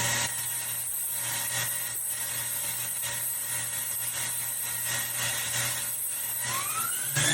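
A 2021 Doosan DNM 5700S vertical CNC machining center spindle runs at 5,000 RPM, producing a loud steady hum with a high whine and constant broadband mechanical noise, briefly rising in pitch near the end.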